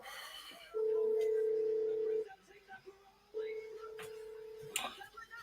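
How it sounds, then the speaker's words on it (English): Phone ringing in a room: two long steady ring tones, each about one and a half seconds with a pause between, heard near and fairly loud, with faint background sound around them. "my phone is ringing, and now it's not ringing"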